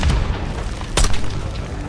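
Mortar explosions in the Call of Duty Black Ops 6 campaign, a dense booming battlefield rumble with a sharp blast near the middle, loud and continuous.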